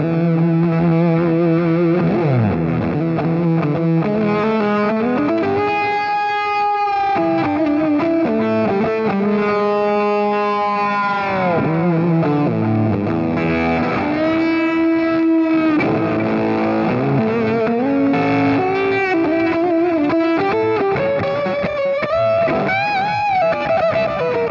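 Electric guitar through two fuzz pedals in swapped order, loud, thick and saturated, with sustained distorted notes and bends ringing continuously alone.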